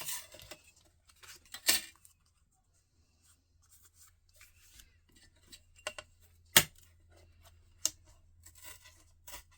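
Paper tears against a metal ruler during a papercraft project: a few sharp, close rips and scrapes stand out from long quiet gaps, with small soft handling noises in between.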